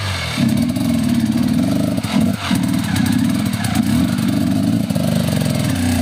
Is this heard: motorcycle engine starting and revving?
yes